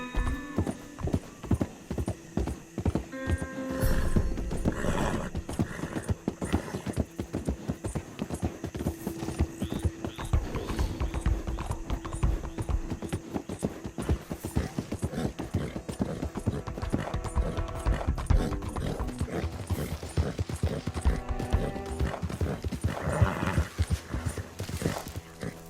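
A horse gallops at length in Red Dead Redemption 2, its hooves drumming in a fast, steady rhythm close up, joined by occasional snorts and game ambience.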